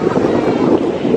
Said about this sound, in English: It did just get like mad windy out of nowhere.